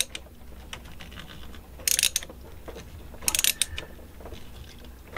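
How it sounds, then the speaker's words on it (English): A nut driver tightens a nut on a Gen9 lower link mount, with a few quick bursts of ratcheting clicks over a quiet mechanical background and no talking. "about as tight as your fingers can hold that nut driver"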